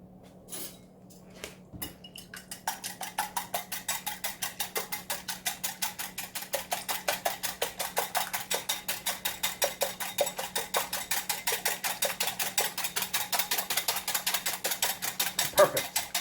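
Whisk or spoon clinking steadily against a bowl while stirring stuffed-shells cheese filling with salt, a fast regular ticking rhythm that continues for many seconds, close and fairly quiet over a low hum.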